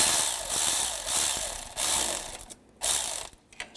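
Hand ratchet clicks quickly in several bursts while tightening the oil filter housing bolts on a 2011-2015 Chevy Cruze, close and fairly quiet, with short pauses between strokes.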